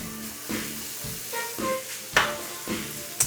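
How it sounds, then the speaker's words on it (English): Red and yellow peppers, red onion and garlic sauté in olive oil, soft sizzling broken by stirring scrapes at a steady pace, with music faintly underneath. "I'm going to go ahead and put in my red pepper, yellow pepper, and red onion, a little bit of garlic too, and I'm just going to saute this up"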